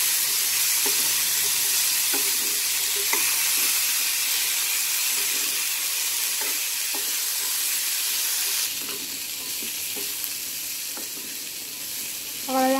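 Boiled chickpea sundal tipped into a pan of hot onion masala, a bright steady sizzle with a few soft stirring scrapes and knocks, the frying hiss dropping somewhat partway through, no talking.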